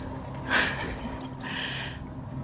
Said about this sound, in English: There are always 3 birds here.